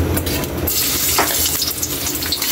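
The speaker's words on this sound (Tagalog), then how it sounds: "Yan Kaylee, nagpapainit na tayo mantika" Sliced ginger frying in hot cooking oil in a pan makes a steady, dense, close sizzle and crackle that runs throughout with no voices.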